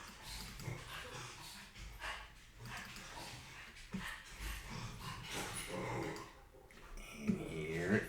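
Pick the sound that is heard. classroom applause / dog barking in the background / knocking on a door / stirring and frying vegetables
dog barking in the background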